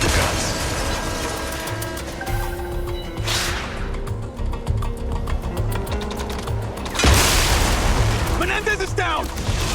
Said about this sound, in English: when that same hostage is blown up by an IED right in front of you